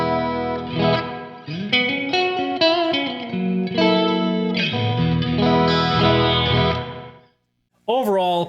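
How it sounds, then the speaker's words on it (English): Guitar notes wash through a lush reverb with wavering modulation from a Donner Verb pedal, chords ringing and blending before a short pause and a new phrase. "You can control the amount of reverb with that decay."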